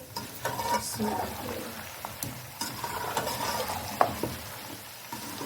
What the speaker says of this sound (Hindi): इसे हम 2-3 मिनट के लिए अच्छे से भून लेंगे ताकि इनका कच्चापन अच्छे से ख़त्म हो जाए